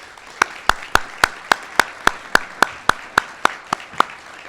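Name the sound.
audience applause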